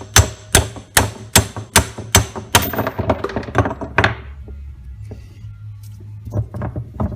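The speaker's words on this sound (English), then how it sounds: "It might take a little bit of hammer to it to knock it out." Sharp metallic hammer blows ring out in a quick regular series while knocking a part out of a car steering column, then continue as softer, irregular taps and knocks, close by.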